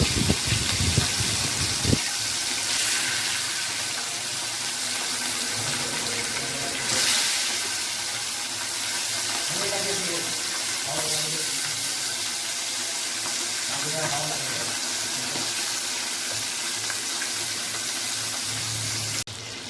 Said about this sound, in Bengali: এবারে আমি কড়াইয়ে মাছগুলো ভেজে নেব।